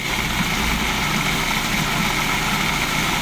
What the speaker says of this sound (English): I'm going to put the food processor on